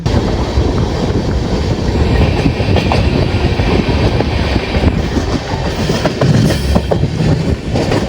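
The Nagercoil–Gandhidham Express runs steadily at speed, loud continuous rumbling with rhythmic clickety-clack of wheels on rail joints and some wind buffeting.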